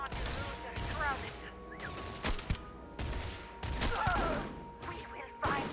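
Rapid bursts of gunfire in a sci-fi space shooter game, sharp cracks and fusillades coming in clusters under game music and an occasional voice.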